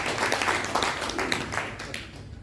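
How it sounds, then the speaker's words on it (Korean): An audience at a church retreat lecture gives a brief burst of applause, a crowd of hands clapping that swells and then fades within a few seconds, with murmuring in the room. "자, 박수 한번 쳐주세요."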